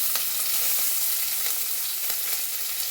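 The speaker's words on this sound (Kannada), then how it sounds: "ಜೀರಿಗೆ ಮತ್ತು ಉಪ್ಪಚ್ಚಿ ಮೆಣಸಿನ್ಕಾಯಿ ಹಾಕ್ತಾಯಿದ್ದೀನಿ ಕರಿಬೇವು ಹಾಕ್ತೀನಿ" Cumin seeds, green chillies and curry leaves crackle in hot oil, a steady close sizzle with small popping spits scattered through it, no voices.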